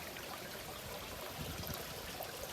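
Water flows through a tap and drains into the sump of an IBC aquaponics system, making a steady, close trickling and splashing that runs on without a break.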